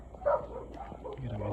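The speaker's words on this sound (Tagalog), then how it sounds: "Bukong ng mga aso." Dogs barking at midnight outdoors, a few short yips and bow-wows at moderate distance over a low background hum.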